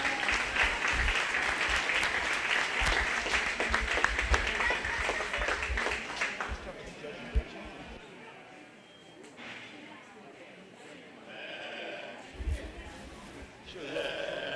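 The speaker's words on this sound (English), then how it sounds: "Let's give these kids a round of applause" An audience claps loudly at a 4-H/FFA lamb show, a dense burst of applause that fades out after a few seconds, leaving a quieter arena where a few lambs bleat.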